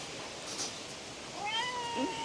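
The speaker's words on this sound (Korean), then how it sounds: "그리고 우리 집 고양이" A house cat in a home gives a single soft, drawn-out meow near the end, faint against quiet room tone, with no talking.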